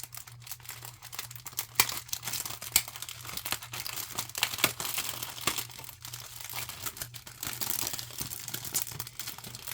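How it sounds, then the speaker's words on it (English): Sheets of paper are ruffled and crinkled up close, a steady stream of crisp crackles and rustles with a low constant hum underneath and no talking. "I just ruffled some paper."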